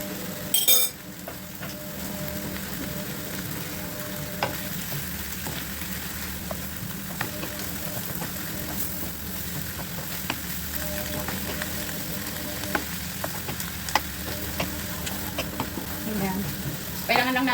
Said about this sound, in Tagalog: Kailangan lang natin siyang igisa-gisa konti guys.